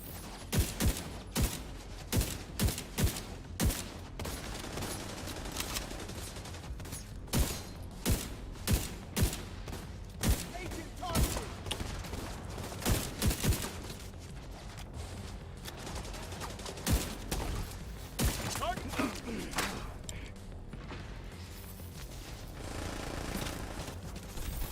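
Blind-fired gunfire in The Division 2, with rapid bursts of sharp shots repeating in clusters across a long stretch of combat, loud and up close over a steady background of game ambience.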